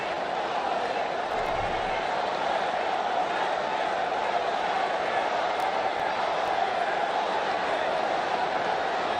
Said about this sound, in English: Outstanding crowd here at this stadium today, and they're very vocal right now.